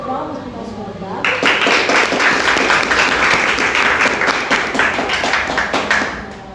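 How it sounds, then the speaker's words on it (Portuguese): A studio audience breaks into loud, dense applause for a former world-champion footballer who was the guest on a Portuguese-language school podcast. The clapping begins after about a second of quieter room sound and stays strong to the end, with a few voices mixed in. "Eu queria uma salva de palmas para o nosso convidado."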